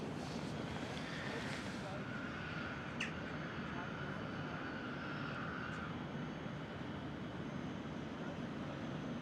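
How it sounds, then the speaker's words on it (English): A British Airways airliner taxiing out at Amsterdam Schiphol, a distant steady engine roar and whine held at a faint level throughout. "And another British Airways, not the emergency aircraft here, pushed back, started up and taxiing out as we speak."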